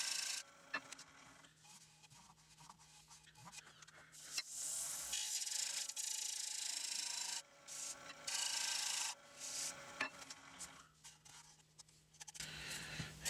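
A scraper rasps across a roughed wooden bowl near a knot, in repeated close, quiet scraping strokes with brief pauses between passes.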